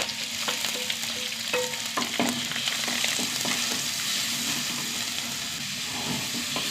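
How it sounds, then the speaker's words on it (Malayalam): Finely chopped onion frying in hot oil, a steady close sizzle and hiss with a few light taps and stirring clicks from a utensil against the pan. "എണ്ണ ചൂടായി. ഇതിലേക്ക് ഒരു സവാള കേട്ടോ, നല്ല പൊടിയായി അരിഞ്ഞത്."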